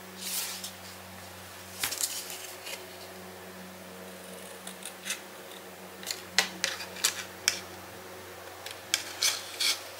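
Scissors cutting paper for a popup mini album page, a string of soft, close snips and rustles that come faster toward the end over a faint background hum, with no speech.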